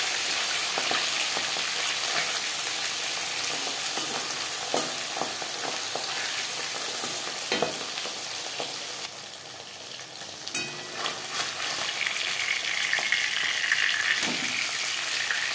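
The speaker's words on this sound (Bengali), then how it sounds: "মাছ আমি হালকা করে ভেজে নেব" Pabda fish fry lightly in hot oil in a pan, crackling and sizzling continuously, with occasional louder pops and the scrape of turning near the end.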